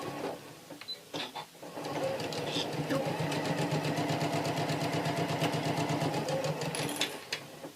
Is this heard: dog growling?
no